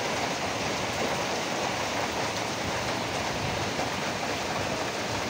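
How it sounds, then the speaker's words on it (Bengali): Steady, dense rain pours down continuously, a broad hiss filling the whole stretch with no voices. "এই দেখেন আকাশ থেকে বৃষ্টি পড়তেছে"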